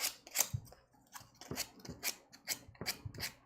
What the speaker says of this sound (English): I just have 220 grit sandpaper. I'm just gonna go over the edges, so that way it's a clean.